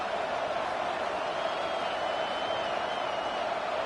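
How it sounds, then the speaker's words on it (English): A home crowd at a college football league game roars in a steady, dense wash of cheering that holds at an even level throughout, with no single voice standing out. "how nice is it to have the home crowd going absolutely bananas?"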